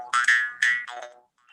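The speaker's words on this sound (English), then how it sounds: "This is a ming made of a bamboo. I can show you the sound of this." A Khasi ming, a bamboo instrument, gives a few twangy, boing-like plucked tones in quick succession, close and fairly loud, before a short fading tail.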